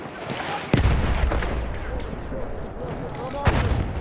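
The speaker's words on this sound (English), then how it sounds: "Yeah, I'm throwing grenades down there." Battlefield 1 World War One combat: booming grenade explosions and dense gunfire roll continuously, with two heavier blasts standing out, loud and close.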